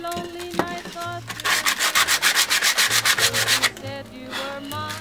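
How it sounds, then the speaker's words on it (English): Sandpaper rubbed back and forth along the rough edges of a maple wood picture frame, a close run of steady rasping strokes in the middle with quieter scuffing before and after, while soft music plays underneath. "It doesn't need to be really smooth sandpaper, just to get the rough edges out."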